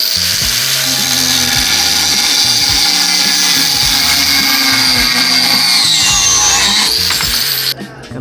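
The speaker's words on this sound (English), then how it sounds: "So I'm going to cut and weld this piece of metal." A power tool cuts through a piece of metal, a loud, continuous high-pitched grinding whine with a rhythmic pulsing underneath, running steadily for about eight seconds before cutting off near the end.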